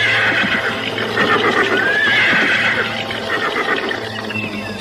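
A horse whinnies loudly and close, with a long neigh over a busy outdoor background and faint hoof movement, in a scene where riders dismount after arriving.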